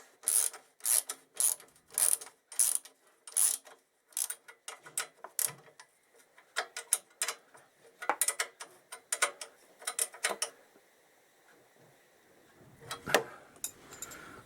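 A ratchet tightens bolts on a Honda XL1000 Varadero motorcycle during an oil and filter change, with rapid rhythmic clicking in bursts that pause and resume up close, ending in a few scattered handling noises.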